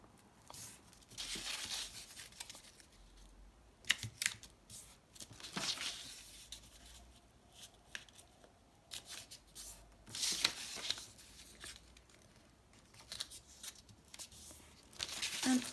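Paper corners being folded in and creased for a no-glue journal flip pocket, with soft crinkling, rustling and sharp papery swipes in irregular bursts, close and fairly quiet.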